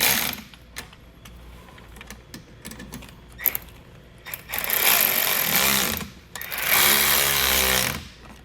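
A power tool tightens bracket mounting hardware for a Curt T-Connector wiring harness, short ratcheting bursts followed by two longer, loud whirring runs close by.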